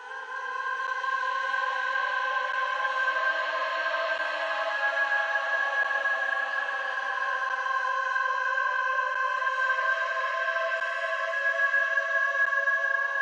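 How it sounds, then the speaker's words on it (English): Sahara Voices, a dark ethnic vocal phrase preset in FL Studio, holds a sustained, airy choir-like tone that stays steady and fairly quiet for the whole stretch, with no other instruments behind it. "So next we have a vocal phrase, and this one here is the Sahara Voices."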